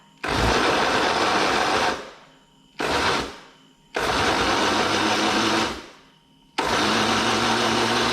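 A kitchen blender grinding lemongrass, chili, coriander root and pickled garlic, running in four loud whirring bursts that each wind down between pulses.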